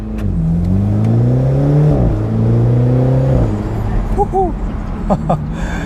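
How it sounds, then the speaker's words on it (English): A 2019 G29 BMW Z4 sDrive30i roadster revs loudly through the gears close by, the engine note rising and dropping at each upshift, followed by brief exhaust pops and crackles. "And when you upshift, you can hear that pop."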